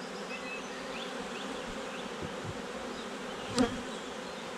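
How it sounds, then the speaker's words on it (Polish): A dense, steady buzz of many honeybees fanning at a hive, a continuous droning hum close by with no voices. "Pszczoły wentylują i nawołują tym samym swoje siostry."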